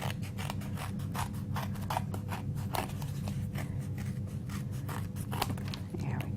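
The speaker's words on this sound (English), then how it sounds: "now at an angle, I'm going to go ahead and trim around the extra bits on these corners." Scissors snipping the corners of a handmade card, a series of short crisp cuts in an irregular rhythm, close by over a steady low hum.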